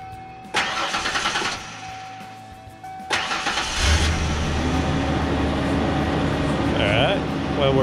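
A Ford Ranger being checked for a fuel leak is powered up: two bursts of cranking whir and clatter, then the engine catches and settles into a steady close idle, with a voice speaking over it.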